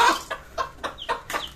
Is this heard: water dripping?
no